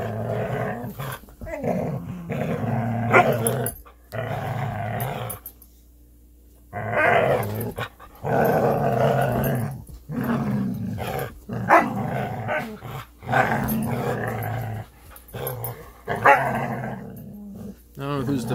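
Two dogs growl and grumble in bursts while playing together, close and fairly loud, with a person talking over and between the noises.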